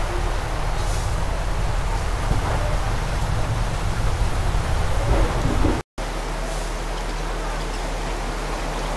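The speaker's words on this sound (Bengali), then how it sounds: "প্রচুর বৃষ্টি হচ্ছে, দেখেন ঝড় হচ্ছে" Heavy rain pours down during a windy thunderstorm outside a balcony, a loud, continuous roar of downpour and rumble that cuts out for a split second midway.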